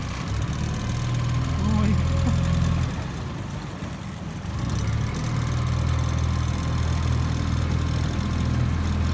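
A boat engine rumbles low and steady close by, dipping briefly before returning to a constant drone, with voices faintly underneath.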